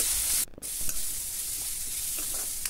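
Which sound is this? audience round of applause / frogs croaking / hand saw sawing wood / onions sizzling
onions sizzling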